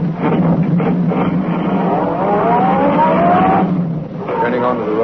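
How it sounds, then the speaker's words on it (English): A sedan accelerates along a concrete road as a radio drama sound effect, its engine note climbing steadily for several seconds, loud and close, then easing off before rising again. "Britt Reed pressed down on the accelerator. The sedan sped along the concrete after Brinkley's car"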